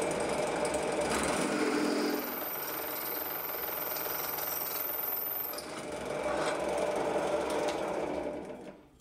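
A new, unsharpened drill bit grinds steadily into material, a loud continuous whirring and chattering that briefly drops in pitch midway before picking back up.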